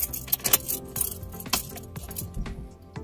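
Car keys jangle and clink close by as a key goes into the ignition of an Opel, with scattered metallic taps and rattles inside the cabin and no talking.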